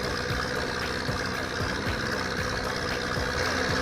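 A Zetor 7745 tractor engine drones steadily while plowing a field in Farming Simulator 25, a loud continuous mechanical rumble with no pauses.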